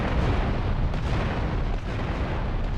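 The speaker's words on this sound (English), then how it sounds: "which creates one massive explosion." Massive bomb explosion in a GTA game, a loud sustained roaring blast with dense low rumble that stays heavy for the whole stretch and shows only slight dips.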